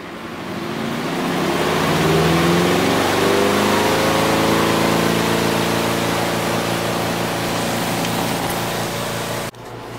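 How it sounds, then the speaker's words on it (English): A portable washing machine runs its spin cycle while draining into a bucket, giving a loud, steady whirring roar with a motor whine that rises and settles before the sound cuts off abruptly near the end. "While the spin cycle is going,"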